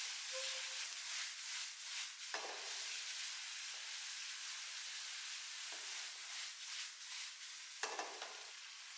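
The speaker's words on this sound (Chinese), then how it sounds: "快速的翻炒均匀，让每一根肉丝都裹上酱汁" Shredded pork in sweet bean sauce sizzles and hisses steadily as it is stir-fried in a wok, with several sharper scraping tosses of the spatula breaking through the continuous close frying noise.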